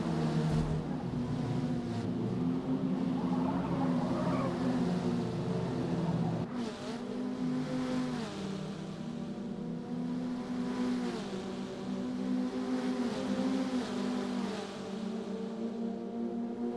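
Race car engines roar steadily in a Forza Motorsport multiplayer race, revving and shifting as cars push down the straight and into a corner, loud and sustained with no talk.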